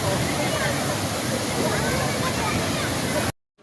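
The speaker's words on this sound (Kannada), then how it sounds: "ಈ ಸಲ ಬಂದುಬಿಟ್ಟು ನಯಾಗ್ರಾ ಫಾಲ್ಸ್ ಇದೆ" A Niagara Falls replica waterfall at a national consumer fair in Bangalore gives a steady, dense roar of falling water with faint crowd murmur, then cuts off abruptly.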